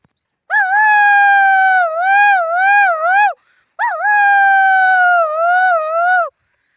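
A person imitates a jackal howl in two long, loud, wavering cries separated by a short pause, the pitch rising and dipping like a canine wail.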